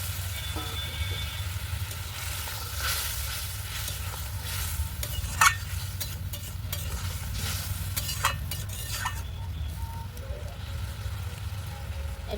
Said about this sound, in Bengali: ঝোলটা ফুটে উঠছে, এবার বেসন ভাজাগুলো দিয়ে দেব।